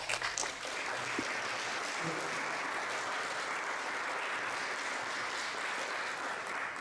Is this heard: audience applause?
yes